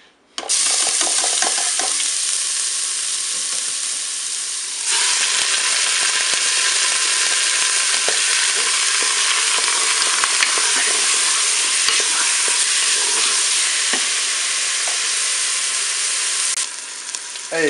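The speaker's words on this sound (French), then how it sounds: "je vais pouvoir faire revenir ma palette et mes oignons" Pork shoulder and onions browning in a preheated Cookeo multicooker, a loud continuous sizzle close up with occasional stirring scrapes, briefly interrupted near the start and easing at the end.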